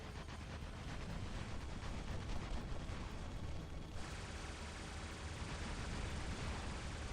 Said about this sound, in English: I'm just shooting in case I can lock someone.